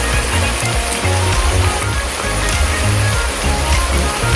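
Chicken broth pours steadily into a pot, a continuous splashing rush with a full, close sound.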